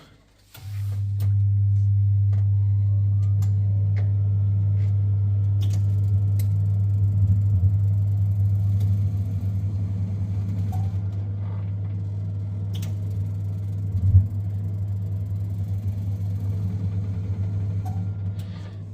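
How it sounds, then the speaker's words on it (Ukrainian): A gas boiler fires up and settles into a steady, loud low hum that runs without a break, with a brief louder surge partway through and no talking. "Так, ось сам котел. Запускаємо його."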